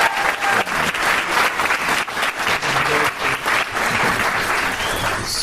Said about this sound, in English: I would love to get a big round of applause for Alan.